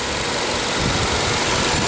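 A small four-cylinder car engine idles with a constant, steady rumble and light vibration, close by, with no voices.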